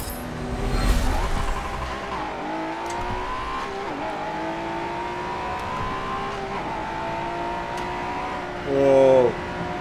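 Honda NSX engine revving and pulling through gears in the racing game Forza 7, with a steady rising drone, shifts and a brief tire squeal near the end.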